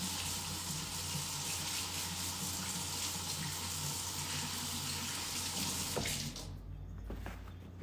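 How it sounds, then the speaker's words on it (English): Tap water streams into a sink as hands get a quick rinse, a steady close hiss that cuts off near the end, leaving faint room sound. "I'm just rinsing my hands off real quick."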